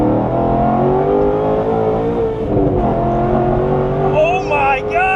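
A Chevrolet Corvette C6 Z06 with its 7-liter naturally aspirated V8, 427 cubic inches and forged internals, droning loud and close at a steady high rev with slight rises, and a faint higher whine near the end.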